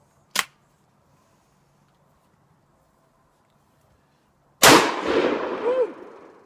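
A Chiappa X-Caliber survival rifle with an 18.5-inch barrel fires 12 gauge shot outdoors, giving a loud blast with a long rolling echo. A short sharp click is heard earlier, after which the scene goes quiet.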